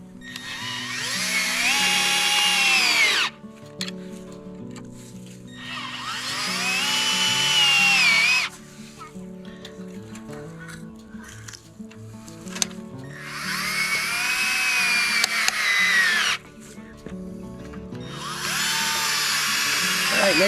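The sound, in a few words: power drill screwing metal gussets onto wooden chicken tractor frame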